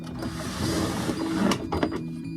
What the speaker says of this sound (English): Changing the thread colour on the overlocker